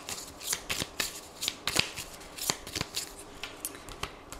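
Lenormand cards shuffled by hand before a nine-card reading, giving a continuous series of crisp, close riffling slaps and flicks at a brisk, uneven rhythm with no talk.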